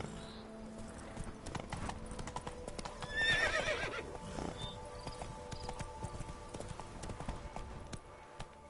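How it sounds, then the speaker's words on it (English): Galloping horse in The Witcher 3: Wild Hunt, steady clip-clop hoofbeats running throughout with a brief neigh or whinny partway through, set against quiet ambient background. "Run, Roach."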